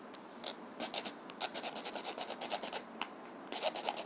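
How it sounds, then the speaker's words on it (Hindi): Plastic wire casing being cut by hand with a saw or knife while making an intermediate switch board, giving a quick series of rasping, scraping strokes in steady rhythm, close and fairly loud with no talk. "और इस टुकड़े को हमें यहाँ से काट लेना है, आरी से या चाकू से किसी तरह से काट सकते हैं"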